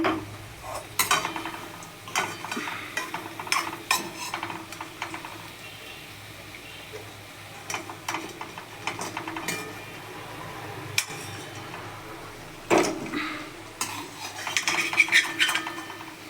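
Fried coriander-leaf fritters lifted out of a pan with a metal utensil, repeated close clinks and scrapes against the pan in irregular bursts over a quiet background, no talking.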